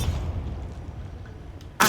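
Bombarda, an explosion spell in the video game Hogwarts Legacy: a deep booming rumble that fades out, followed by a sudden loud burst at the very end.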